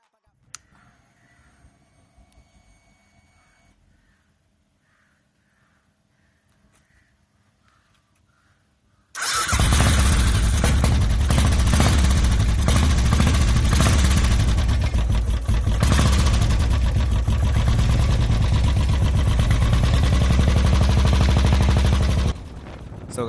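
A Royal Enfield Bullet motorcycle fitted with a Red Rooster exhaust silencer fires up after quiet handling noises, then settles into a loud, deep, thumping idle with rises in revs before cutting off abruptly.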